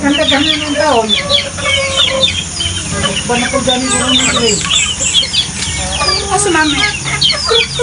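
A flock of farm chickens clucks and calls in busy, overlapping bursts, with roosters among them, close by and fairly loud, while people talk over the birds.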